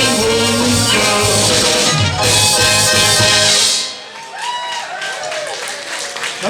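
Audience applause at a Limburg carnival song contest, a dense steady wash of clapping under loud music for about four seconds, then fading into quieter clapping and crowd noise as the music stops.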